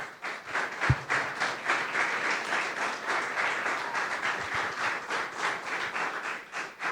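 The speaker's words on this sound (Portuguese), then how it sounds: "Aplauda o Senhor Jesus." Steady applause from a church congregation at a worship service, many hands clapping together in a dense, continuous wash that holds evenly for several seconds with no voices over it.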